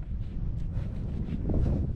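Outdoor wind on a dike during a crab-hunting trip, a steady, close rush buffeting the microphone with low rumbling gusts and no other clear sounds.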